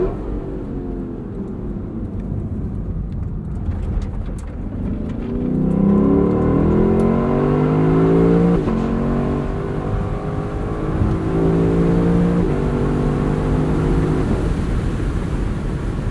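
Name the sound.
Lexus LC sport 2022 exhaust revving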